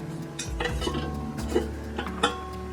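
A silver-plated candle holder is shifted aside on a hard surface, giving a few light metallic clinks and knocks spaced over a couple of seconds, close up against a low background hum.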